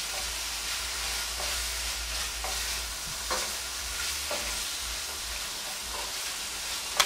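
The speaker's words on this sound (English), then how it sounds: "So we're going to let it simmer down." A spaghetti squash dish with white wine simmers in a pan with a steady, close sizzle and bubbling hiss, broken by occasional soft stirring clicks.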